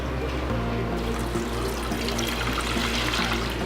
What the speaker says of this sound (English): put your soap mixture in the pot, and you're going to add 2 cups of water